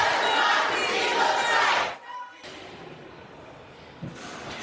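Supporters roar and shout for Texas House Democrats walking back into the Capitol House chamber. Loud crowd cheering for two seconds, then it cuts abruptly to a quieter hall murmur with a faint thump near the end.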